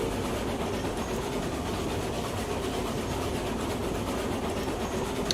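Train bogies roll along the track in the Railroads Online video game, giving a continuous rumbling wheel-on-rail noise with a faint rhythmic clatter, steady and fairly loud with no talking.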